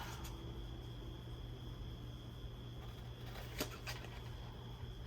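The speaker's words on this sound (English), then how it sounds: "if you can hear the AC," An air conditioner drones steadily in the background of a craft room, a faint, continuous low hum that never changes, with only a couple of tiny clicks over it and no talk.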